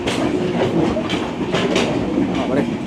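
Maitree Express passenger train running between Dhaka and Kolkata, a steady rumbling roll with faint rhythmic clatter of wheels on rail joints, heard from inside a carriage, continuous and moderately loud.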